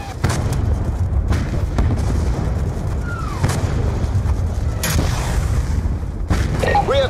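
Enemy tanks shelling a base in Call of Duty Black Ops 2, a dense, continuous battle din with several sharp booms and explosions rising from the roar at irregular intervals.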